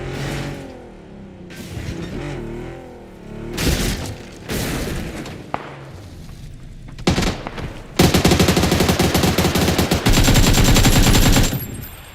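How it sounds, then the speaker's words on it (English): Rapid bursts of video-game gunfire in a PUBG match, mixed with other game sounds and swelling into a dense, loud, continuous barrage over the last few seconds. "There's somebody shooting at him."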